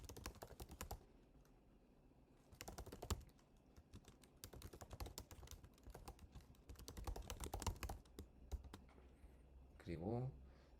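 Quick bursts of clicking keystrokes on a computer keyboard come in uneven runs with short pauses while dialogue is typed, close and fairly quiet, with a brief voice near the end.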